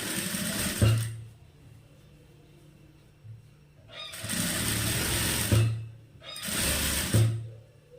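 A tailor's sewing machine stitches a sleeve seam in short whirring bursts, three of them, with a soft low hum and mechanical clicks between runs.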